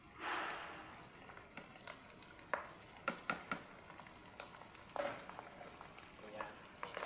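Bopis being stirred as it fries in a pan: a faint, low sizzle runs underneath a series of soft scrapes and knocks from the utensil, close but quiet, with a voice murmuring briefly near the start.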